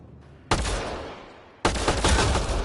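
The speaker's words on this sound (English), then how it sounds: "Shooting the device will destroy it." Two bursts of gunfire from Mass Effect Andromeda hit a Kett device, each a sharp loud onset trailing into a rattling, crackling decay, the second burst denser and sustained until the end.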